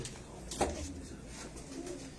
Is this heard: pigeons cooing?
yes